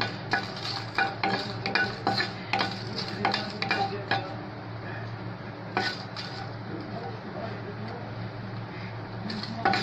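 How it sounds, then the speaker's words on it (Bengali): Four or five dried red chillies dry-roasting in a pan, with repeated scraping and stirring strokes over a low, steady background hum; the scrapes come in irregular bursts, close and moderately loud. "প্রথমে আমি শুকনো মরিচগুলিকে হালকা একটু টেলে নেব"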